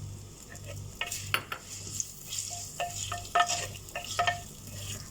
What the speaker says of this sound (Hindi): अब इसको ओनियन को फ्राई करना है, ये लाइट पिंक हो जाए, लाइट ब्राउन कलर का